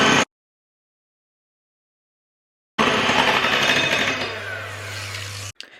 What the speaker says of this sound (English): Mix until we have stiff peaks.